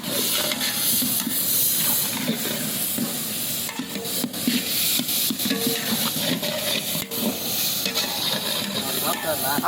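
Tomatoes frying and being stirred in a pan for a home-cooked lunch, a steady sizzling hiss with scraping stirs throughout, close and fairly loud, with a voice talking now and then.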